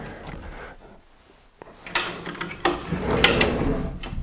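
French pocket doors in a closet slide and meet each other, a close rolling rumble with sharp clicks and knocks after a quiet start.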